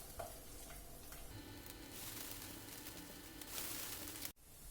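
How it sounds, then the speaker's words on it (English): Oat patties sizzling in hot oil in a pan, a steady crackling fry close up with faint ticks throughout. "I'm just going to put it into the oil."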